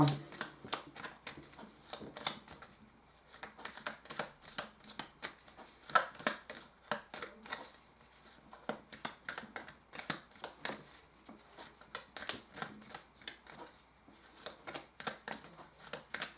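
Tarot cards are shuffled and flicked in quick papery bursts, close and fairly soft, with brief pauses between runs of riffling.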